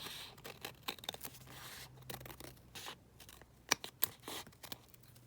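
Scissors snip along the edge of paper ephemera made from a floral board, giving a series of quiet, irregular cutting and rustling sounds close by.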